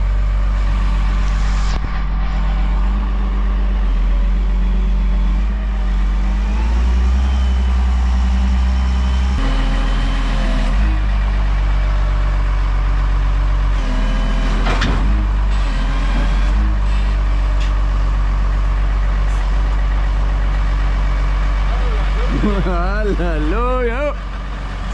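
An old tractor engine idles with a steady deep throbbing rumble that runs the whole time, loud and close, while people talk over it and a whistling sound rises near the end.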